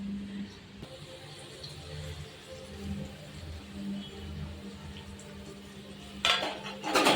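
Onions and coriander stirred in a pan, with clinks and scrapes of a utensil against metal, a low background hum, and a louder clatter near the end.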